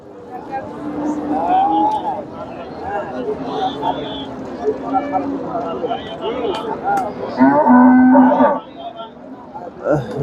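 Friesian bulls moo loudly and repeatedly at a cattle market, some calls long and low, amid the murmur of people talking nearby.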